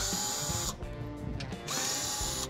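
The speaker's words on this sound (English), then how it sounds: "I got a power tool." A power tool with a 7mm socket spins out splash shield bolts under a Ford Dark Horse Mustang, two close whirring bursts with a short pause between, no talk.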